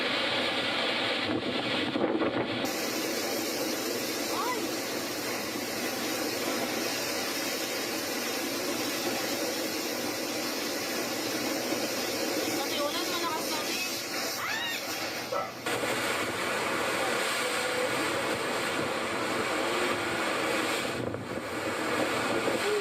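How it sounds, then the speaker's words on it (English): Hurricane-force wind from Typhoon Goni roars steadily and loudly throughout, a dense, unbroken blast buffeting the microphone, with no voices heard. "Very strong wind."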